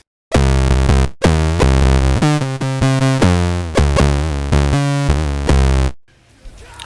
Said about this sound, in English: Also blending this with a sawtooth wave and applying the same pulse width modulation.